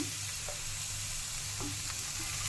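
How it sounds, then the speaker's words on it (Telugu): Green chillies sizzle in hot oil in a pan while being fried for a tomato and peanut chutney. A steady, close crackling hiss continues throughout, with a few faint soft clicks from stirring. "ఫస్ట్ మనం మిర్చి దోరగా వేయించుకుందాం."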